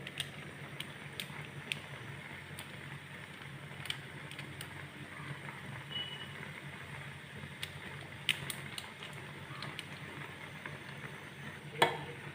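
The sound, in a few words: stirring boiling Maggi noodles with masala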